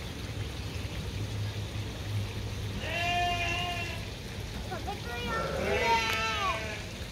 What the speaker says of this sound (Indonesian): Kambing lah.